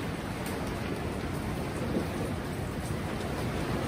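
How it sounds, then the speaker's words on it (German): Light rain falls on a boat in a steady, even patter with a faint background hiss, moderately loud and unbroken, with no voices. "der 35. leichte Regenschauer des Tages"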